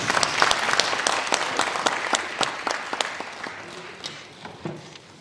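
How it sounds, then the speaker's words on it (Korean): A Korean church congregation applauds to welcome a lecturer, loud crisp clapping at first that thins out and fades toward the end, with a few scattered claps lingering. "박수로 환영하겠습니다."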